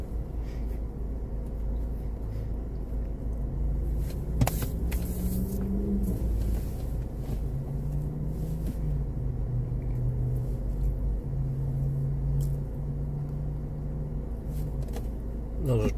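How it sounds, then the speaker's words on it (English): A pickup truck passes with a steady low rumble that swells and fades, set against constant heavy rain. "It was a pickup truck that made that sound."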